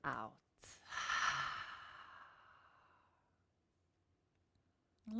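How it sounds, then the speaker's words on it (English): A deep, long exhale through an open mouth during a guided breathing meditation, a close, breathy rush that fades slowly over a few seconds, preceded by a short breath sound. "Exhale it out."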